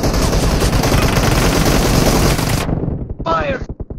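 Loud, continuous automatic gunfire in a team deathmatch round of the Squad video game, a dense roar that cuts off abruptly and leaves a few scattered shots, with a voice briefly heard.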